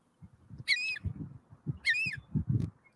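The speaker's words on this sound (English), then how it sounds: "when the seagull shuts up" A seagull squawks twice in loud, harsh cries about a second apart, heard over continuous nearby talking.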